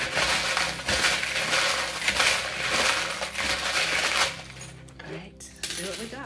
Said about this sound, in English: I'm gonna shuffle some more.